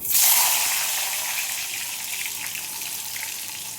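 Chopped tomatoes hit hot oil in a pan over a lowered gas flame for a spicy vegetarian dish, bursting into a loud sizzle that settles into a steady, bright frying hiss.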